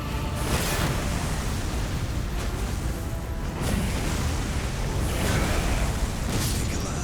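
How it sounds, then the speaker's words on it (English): Heavy explosive bursts from a boss attack in the Elden Ring fight against Mohg, Lord of Blood, a loud, continuous rumbling roar with swelling blasts near the start, middle and end. "there's an explosion at the end"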